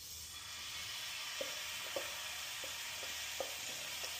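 Hot oil sizzling steadily in a pan while fish fries on a gas stove, a constant bright crackle with occasional soft clinks of stirring utensils.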